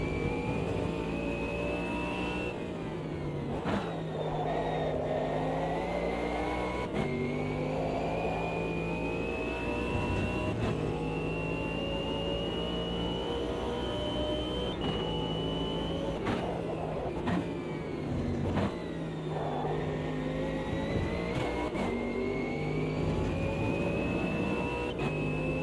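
Mercedes GT3 race car engine in a sim racing game, a steady high-pitched whine that climbs and drops through repeated gear changes, faint and continuous with no talking.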